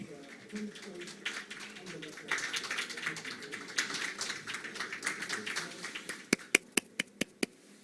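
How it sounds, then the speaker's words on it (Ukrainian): Applause breaks out at a formal signing ceremony for a cooperation protocol, building through a murmuring room and ending in several sharp, loud claps near the microphone. "Оплески"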